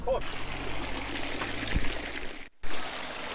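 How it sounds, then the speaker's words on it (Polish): Steady trickling of cold mountain spring water pouring into bottles, running continuously close by, with a brief interruption near the end before the flow resumes. "Czysta górska woda. Tutaj wszyscy nalewają."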